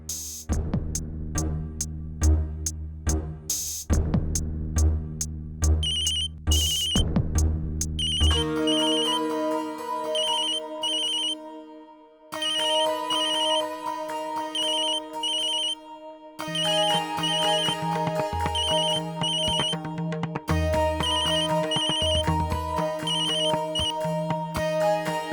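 A phone ringtone plays loudly and continuously as a call is placed, a repeating electronic melody with steady tonal patterns cycling for many seconds, no voices over it.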